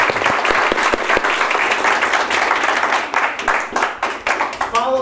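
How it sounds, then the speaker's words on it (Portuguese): An audience at a school podcast event claps steadily for several seconds, dense and close, with the applause thinning and wavering toward the end as a voice begins. "Quem gostou, bata palma."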